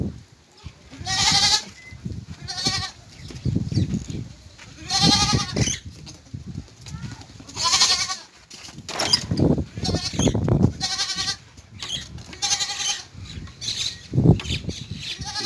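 Goats at a livestock market, among them a hornless pink-hued female, bleat repeatedly and loudly at close range, calls overlapping with brief pauses and some background clatter.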